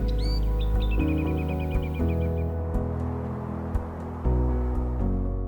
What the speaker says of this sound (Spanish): el canto de las aves acompaña cada paso